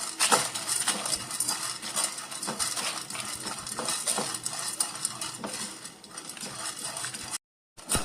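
Chana dal, urad dal, cumin and dried chillies dry-roast in a pan, with repeated scraping and clinking of a stirring spoon over faint crackle, close and steady, with no talking.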